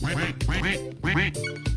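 Yellow ducks in the video game Roblox quack in a rapid series of loud, nasal quacks, close and repeated back to back with no pauses.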